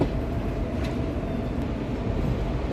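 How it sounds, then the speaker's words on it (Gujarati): A passenger train crossing switches near the bypass cabin at Wankaner Junction, with a dense, steady rumble and rattle of wheels on rails heard from on board, loud and continuous. "ને આપણી ટ્રેન સ્વિચ કરી રહી છે એ કેબિનથી બાયપાસ કેબિન વચ્ચે."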